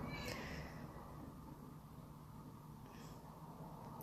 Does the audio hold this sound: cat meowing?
yes